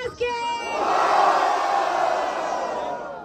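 A battle rap audience at a Batalha Da Leste event in São Paulo roars for a rapper. A host's brief voice at the start swells into a sustained, loud crowd cheer and yelling that slowly fades.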